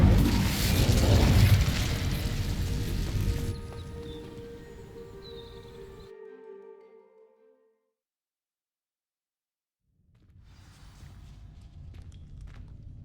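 Burning dry vines crackle and roar loudly after an Incendio fire spell in Hogwarts Legacy, then die away into a fading ring and several seconds of silence before soft footsteps and rustling return.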